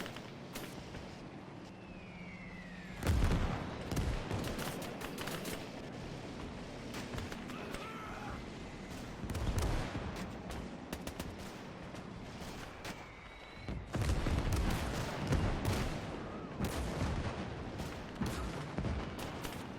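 Gunfire and artillery in a video game simulation of the 1945 Iwo Jima invasion, with repeated bursts and heavy blasts around three and fourteen seconds over a steady background rumble.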